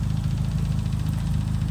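A Nissan Bluebird with a swapped-in SR20 engine idles nearby, its blowing exhaust giving a steady low, pulsing rumble with a rough chuff throughout.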